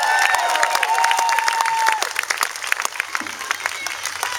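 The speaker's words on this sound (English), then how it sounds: "Give them a nice round of applause" A crowd applauds a boy band at a hometown honor event in Woodland, Alabama, with dense clapping and some cheering, loud at first and then thinning into scattered claps.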